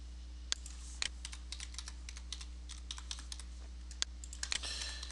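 Username being typed on a computer keyboard: a steady run of light, irregular key clicks with a couple of sharper, louder strikes, close and alone over a low electrical hum.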